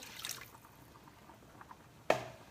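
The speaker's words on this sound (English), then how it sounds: "So I'm going to take my water at this point. I'm going to add the water." Water is poured into a hot pan of garlic, giving a quiet trickle and a sudden sharp sizzle that flares briefly then fades, with soft kitchen clatter around it.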